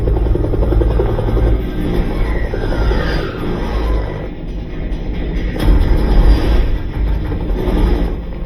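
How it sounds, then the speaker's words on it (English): A helicopter in a movie surround-sound codec demo, heavy rotor rumble and low-frequency roar sweeping past as if moving from behind to in front, loud and continuous with no voices. "it feels like and sounds like the helicopter is zooming right by me or coming from behind and going forward"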